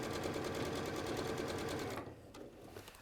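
A sewing machine runs steadily, stitching a seam with a fast, even mechanical chatter that fills the first two seconds before dropping to a quieter, slower whirr as it eases off.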